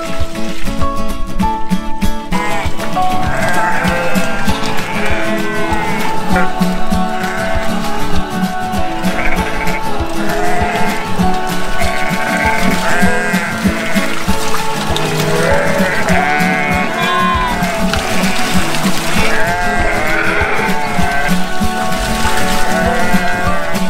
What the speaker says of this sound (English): So much drama here just to run some sheep through a footbath.